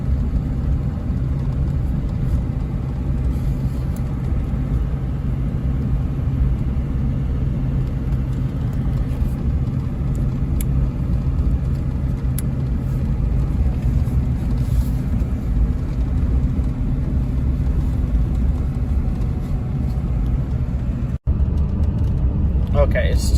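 A LBZ Duramax diesel pickup engine, stuck in limp mode and held at 2,000 RPM, drones as a steady loud low rumble from inside the cab, unbroken for over twenty seconds apart from one brief dropout near the end.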